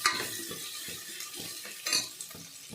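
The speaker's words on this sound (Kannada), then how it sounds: "ನೋಡಿ ಈ ಒಗ್ಗರಣೆಗೆ ಮಂಡ ಕಾಳು ಸುರಿತಿದ್ದೀನಿ ಸ್ವಲ್ಪ ಫ್ರೈ ಆಗಲಿ" Horse gram being fried in a hot oil tempering for a prawn curry: a steady crackle of frying under repeated scraping and stirring strokes of a spoon against the pan, with a few louder clinks.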